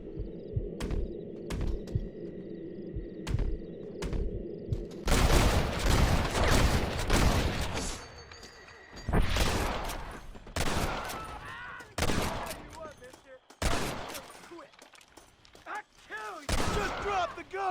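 Gunfire in the Red Dead Redemption video game, first a few spaced single shots, then loud, dense volleys and bursts that come and go, close and harsh.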